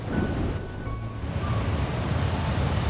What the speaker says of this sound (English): The wind! I can't open my eyes!